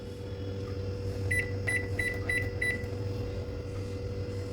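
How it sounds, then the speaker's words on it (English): A microwave oven cooking jeera rice hums steadily and loudly, with a run of five short electronic beeps near the middle. "We'll just put it in the microwave for 15 minutes and our rice will be done."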